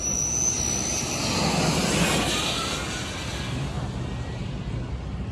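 The McMurtry all-electric fan car, a 1,000-horsepower single-seater using fans for downforce, driving up the hill at a supercar event: a loud, steady high-pitched whine and rushing roar passing nearby.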